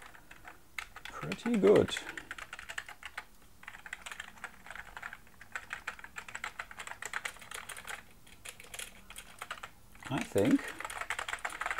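Keys clatter steadily on a Sinclair ZX Spectrum+ home computer keyboard, a dense run of light rubbery taps, with speech breaking in near the start and again near the end.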